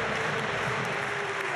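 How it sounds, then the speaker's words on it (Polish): A football stadium crowd at an Ekstraklasa match between Pogoń and Lech applauds a player leaving the pitch on substitution, a dense, continuous wash of clapping with no gaps. "A teraz chwila oklasków dla schodzącego Kamila Grosickiego."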